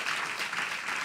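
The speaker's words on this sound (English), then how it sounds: "Give her another clap." Brief burst of audience clapping at a talk, a steady wash of hands applauding a speaker from the crowd.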